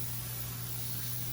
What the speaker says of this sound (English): Now we're going to get the pan. We're going to spray this on it. It's a non-stick